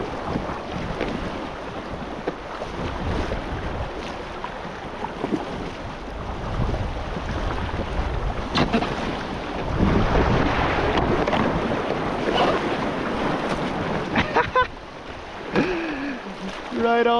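A packraft is paddled along a mountain creek in Alberta, with splashing strokes and rushing water under steady wind noise on the microphone, continuous and fairly close.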